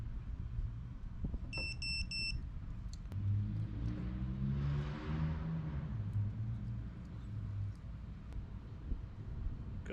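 A GoPro Hero10 Black chirps a short series of high electronic beeps as it powers on, faint over a background of a car engine that swells and settles.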